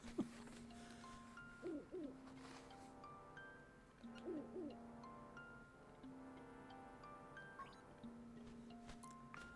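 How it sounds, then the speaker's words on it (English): An owl hoots in Link's Awakening on the Nintendo Switch, soft repeated hoot phrases recurring at a few intervals over gentle in-game music. "we're going to get interrupted by the owl again"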